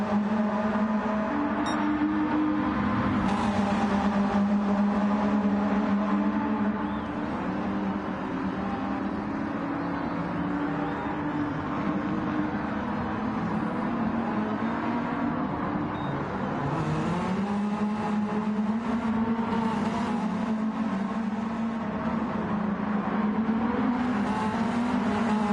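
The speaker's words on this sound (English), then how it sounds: "Will that be enough for Mr. Clean to get this overtake done?" Race car engines drone continuously during an overtake, steady loud revving with pitch rising and falling as the cars accelerate and shift, one close engine dominating throughout.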